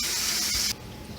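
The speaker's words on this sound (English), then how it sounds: "he's draining the bloody water off the fish. He let the water out." Water spraying and running steadily from a kitchen sink as it drains off freshly cleaned sand bass, cutting off abruptly partway through and leaving quiet drips.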